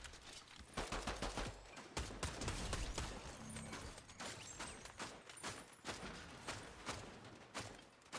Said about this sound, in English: Oh shit, who's shooting at me?